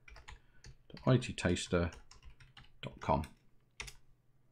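Computer keyboard keys clicking in short bursts as a command is typed, with someone speaking over much of the tapping in a quiet room.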